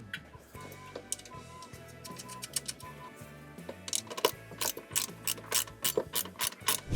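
Washers and bolts are fastened onto retractable running boards on a Ford pickup truck, heard as bursts of close ratcheting clicks in quick rhythmic runs, separated by brief pauses and growing louder toward the end.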